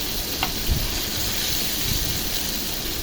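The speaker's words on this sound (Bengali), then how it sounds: "তারপরে এটারে আস্তে জালে ভাজতেছি।" A spiced chicken burger patty fries in oil over low heat, producing a steady, close sizzle with faint crackles throughout.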